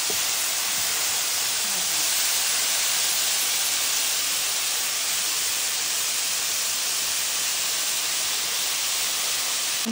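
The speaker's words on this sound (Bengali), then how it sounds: "আলু ভাজিটা হচ্ছে" Long-cut potato strips frying on high heat in a pan give a steady, dense sizzling hiss that holds evenly and close throughout, with no talking.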